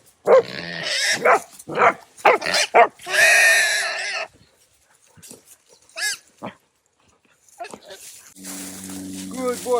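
Hunting dogs named Skunk and Robbie after a boar, barking sharply in several bursts with whining and whimpering between them, close by, while a voice speaks over them and some pig-like grunting squeals appear near the end.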